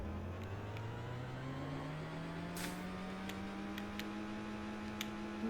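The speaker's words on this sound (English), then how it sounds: "The engine noise is slightly less annoying, but still just engine noise" Racing car engine in the SNES game Al Unser Jr's Road to the Top: a steady synthetic drone that slowly rises in pitch as the car accelerates, with a few sharp clicks over it.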